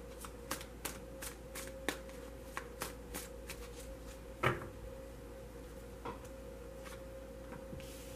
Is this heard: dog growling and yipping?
no